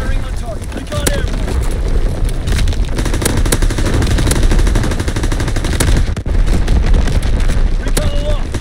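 Artillery battery in a war video game firing continuously, dense loud gunfire and booming blasts layered close together over a steady roar, with sharp individual reports standing out throughout.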